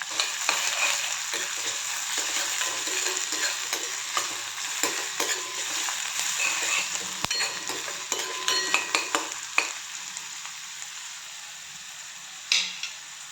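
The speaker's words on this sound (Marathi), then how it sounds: "आता यामध्ये कांदा घालायचा. कांदा पण छान गोल्डन ब्राउन होईपर्यंत परतून घ्यायचा." Onion sautéing in hot oil with garlic in a pan for a potato sabzi, a steady loud sizzle with occasional spoon-stirring clinks and scrapes, continuous throughout.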